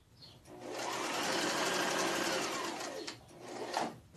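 A sewing machine runs steadily for a few seconds, stitching a cross body tote bag at a half-inch seam with backstitching, its close, continuous whirring motor swelling and easing slightly near the end.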